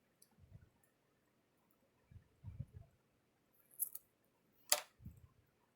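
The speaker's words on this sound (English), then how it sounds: "I'm just going to cut a whole bunch of these." Scissors snip foam tape into small pieces in a quiet room, giving a few faint, close cuts spaced a second or two apart, with one sharper click near the end.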